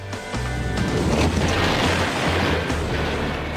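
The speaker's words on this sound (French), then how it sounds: "On a une explosion!" An explosion set off during a MythBusters test, a sudden loud boom that rolls into a sustained rumbling roar and lasts several seconds before easing slightly.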